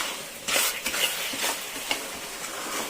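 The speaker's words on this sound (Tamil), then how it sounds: "இது பாருங்க, நல்லா கொதிக்குது" A thick carrot halwa mixture bubbles and sputters in a pan, with soft irregular pops and stirring scrapes close by.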